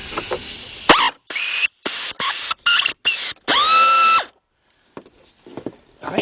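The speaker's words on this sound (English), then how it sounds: "Loosen these nuts up right here," Tool work loosening motor mount nuts on a 1999 Dodge Dakota Sport with a 3.9 engine: several loud, close bursts of tool noise in quick succession, ending in one longer whirring burst, followed by quiet faint clicks.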